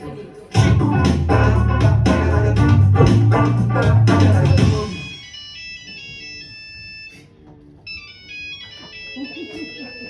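Telephone ringtone heard after a loud musical passage; the tonal ring pattern plays in two bursts, moderately loud, with no one speaking over it.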